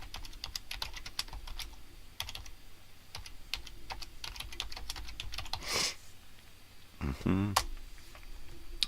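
Clattering keystrokes from a computer keyboard in irregular bursts, with a brief louder noise and a short voiced sound partway through, recorded close up.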